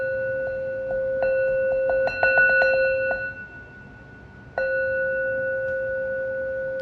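A meditation bell is struck in a quick roll of small taps, then rings with a clear sustained tone, followed by one more strike that hums on steadily in a quiet room.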